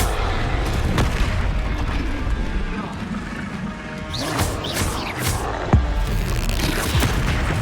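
Repeated booming blasts of the Confringo explosive spell in a Harry Potter video game, loud crashes and thuds layered over game noise, with a voice talking over them.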